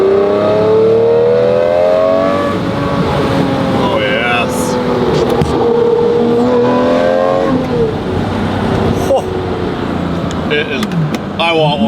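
A Lamborghini Murcielago drives through traffic, its engine droning and revving close by throughout, with people talking over it inside the car.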